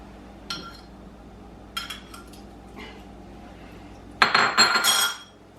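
An egg cracked into a bowl: a few light taps and clinks against the rim, then a louder cluster of cracking and clattering near the end, close up and without talking.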